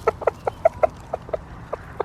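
A rooster gives a rapid run of soft clucking calls to summon hens in a backyard flock, about a dozen short notes in an uneven rhythm, close and moderately loud.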